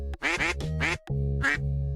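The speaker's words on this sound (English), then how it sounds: "Cue in another duck attack." A duck gives several loud, close nasal quacks in a quick irregular sequence, with no talking in between.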